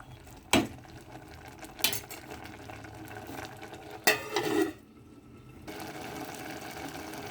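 Turmeric being stirred into a drumstick leaf dal curry, with a few sharp spoon knocks on the pot and soft scraping over a low bubbling simmer, close and moderately quiet, with no talking.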